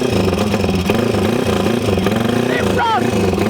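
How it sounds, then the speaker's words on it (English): A 1990s Ducati 350cc racebike engine runs loud and close, its rough, pulsing idle clattering and revving unevenly, with voices over it. "The Ducati is firing again"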